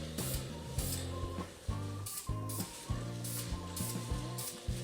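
Krylon Color Master clear finish is sprayed from an aerosol can onto a tea light holder in several short hissing bursts, close and moderately quiet, with faint rattling between them and no talking.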